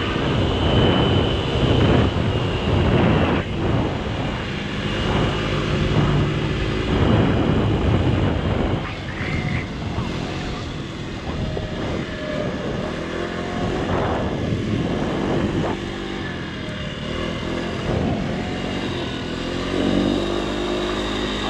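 Baotian classic 50cc scooter engine held at full throttle on a top-speed run up a slight hill, a steady loud buzzing drone with heavy wind rush, continuous and close throughout.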